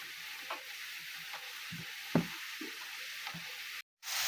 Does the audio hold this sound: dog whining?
no